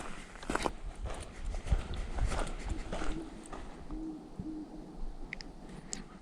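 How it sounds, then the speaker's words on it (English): An owl gives a few low, soft hoots along a long, straight, grassy road on a hiking trail near Cape Hatteras, heard at a distance over crunching footsteps and faint outdoor ambience. "There's an owl."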